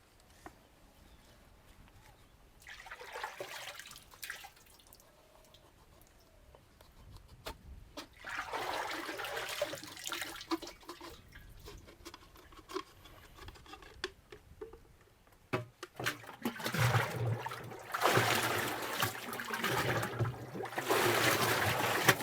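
Water pours and splashes into a bucket in bursts, growing louder and fuller as it fills, with quieter gaps between the streams and faint background sounds.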